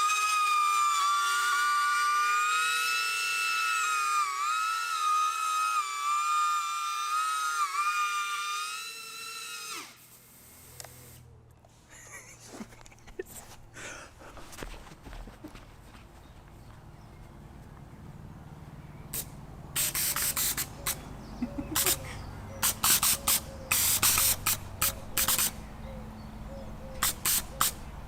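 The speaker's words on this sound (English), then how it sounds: "the noise from the main lift propellers are louder than the gas thrusters" A drone's main lift propellers whine loudly with a steady tonal buzz for about ten seconds and then stop. Quieter short sharp hissing bursts follow, from gas thrusters fed at 100 psi bottle pressure, sporadic at first and then clustered near the end.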